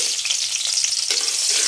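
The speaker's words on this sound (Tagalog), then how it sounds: "So, bawang inilagay na natin." Garlic frying in a pan, a bright continuous close sizzle with small stirring scrapes, no talk.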